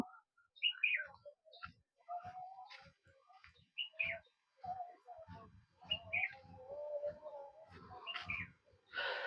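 Several birds chirp and call in short bursts on a hilltop trekking trail at Mangalagiri, fairly faint and somewhat distant, with quiet rustling and soft thumps in between.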